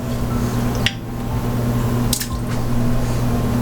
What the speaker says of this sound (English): And I'm going to put some of my ginger